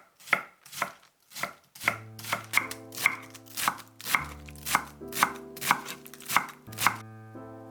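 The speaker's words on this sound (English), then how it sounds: "Cut them into small pieces." Napa cabbage leaves chopped into small pieces with a knife on a board: about a dozen crisp, evenly spaced chops in a steady rhythm, each leaving a short ringing tone, close and clear with no talk.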